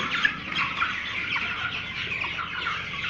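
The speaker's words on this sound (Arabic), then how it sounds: "الفراخ طبعا بتعطس بتشهق" Sick chickens in a crowded poultry house make a dense, continuous chorus of clucks, rattling gasps and sneeze-like calls, steady and moderately loud with no talking.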